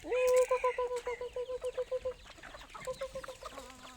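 Chickens on a Thai farm cluck in a quick, rhythmic series of loud, close calls, followed by softer scattered clucks and chatter from the flock.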